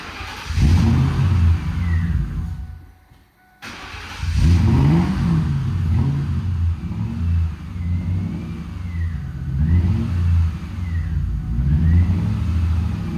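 An unmuffled Lincoln Mark VIII engine revs loudly and repeatedly, rising and falling in pitch with a raw, throaty rasp, cutting out briefly before firing up again.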